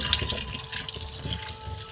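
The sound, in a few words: tap water washing pointed gourds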